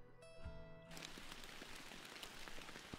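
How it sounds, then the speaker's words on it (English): Steady rain in the fishing video game Fishing Planet, a soft, continuous hiss of drops pattering on surfaces, fairly quiet throughout, with a brief tonal sound fading out at the start. "It has not stopped raining."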